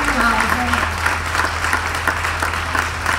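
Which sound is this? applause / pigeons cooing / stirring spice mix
applause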